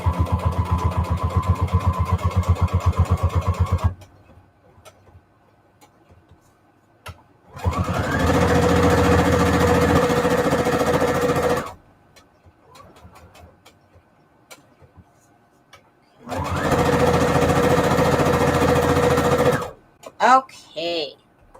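A sewing machine stitches a pocket of index card with lace, running in three long steady bursts of mechanical whirring separated by pauses with faint handling sounds, ending in a few short clicks.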